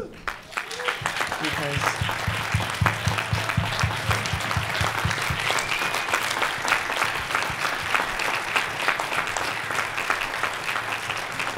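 Enthusiastic audience applause after a documentary screening Q&A, a dense, continuous round filling the hall for over ten seconds, with cheers and voices mixed in beneath the clapping.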